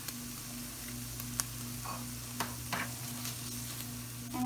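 Butter melts in a pan with a soft, steady sizzle over a constant low hum, with a few faint clicks and no talking.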